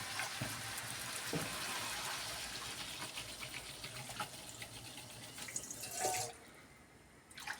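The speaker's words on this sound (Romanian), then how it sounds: "Și punem apă." Water runs from a tap into a cooking pot for a Banat-style potato stew with fresh sausage, a quiet steady pouring stream that stops near the end, leaving only faint drips.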